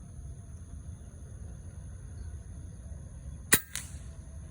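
Two air rifle shots from an FX Impact Mk II or RTI Priest, sharp close cracks a split second apart over a steady low outdoor rumble.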